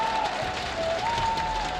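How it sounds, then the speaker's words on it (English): A crowd at a Dota esports tournament in Kuala Lumpur keeps up a steady wash of applause and cheering, filling the arena under an announcer's voice. "Let's get some more of these claps going."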